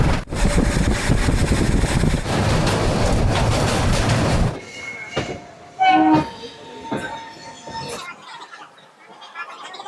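A train at Jaleswar railway station at night: loud, close rumble of passing railcars for about four seconds, then a quieter platform with a horn tone, scattered clanks and rattles as it fades.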